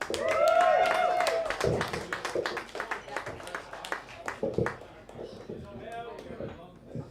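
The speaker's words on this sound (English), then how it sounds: "So please give her another round of applause." Applause from a live audience for a nervous female performer at an acoustic music show, loud at first then thinning into scattered claps as a voice talks over the tail.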